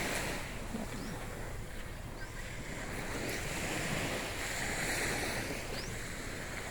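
Ocean waves washing onto a beach on Boracay Island, a continuous broad surf roar with steady wind noise buffeting the microphone, close and loud throughout with no talk.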